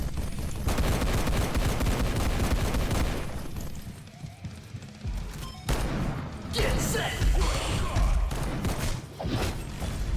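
Enemy gunfire from the video game InfecDOOM rattles in dense, continuous bursts with heavy booms and impacts, dipping briefly midway before surging again, loud and close.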